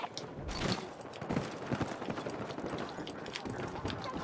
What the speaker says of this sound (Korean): 발소리가